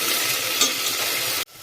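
Ginger and garlic sizzle in oil in a pan for a mutton head curry, a bright, steady frying hiss with a brief stir before the sound cuts off abruptly.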